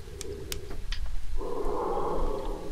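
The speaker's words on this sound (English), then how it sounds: "Yo, that breathing is crazy" Heavy, creepy breathing of the Boogie Man lurking under a bed in a horror video game, a steady close rasping breath that swells and continues after a few short clicks and gasps.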